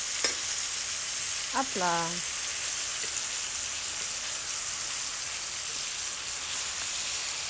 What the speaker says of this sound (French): On les laisse dorer encore quelques instants avant de les déglacer avec l'armagnac.